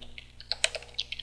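Quick, light keystrokes as a command is typed on a computer keyboard, about a dozen close, crisp clicks in an uneven rhythm within a second or so.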